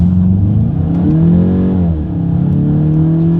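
A 2023 Volkswagen Golf GTI accelerates hard in full manual mode using its paddle shifters. The engine note climbs loud and close from inside the cabin, then drops briefly at an upshift before rising again.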